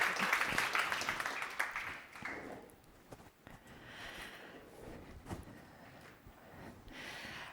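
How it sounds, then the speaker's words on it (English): A burst of applause from a crowd, loudest at the start and gradually thinning into scattered claps and room noise. "applause for Sophia and the energy team."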